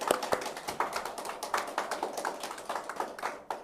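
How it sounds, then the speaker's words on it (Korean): A church congregation claps steadily for God, rapid overlapping handclaps forming a dense, even patter throughout, moderately distant and with no talking. "하나님께 박수."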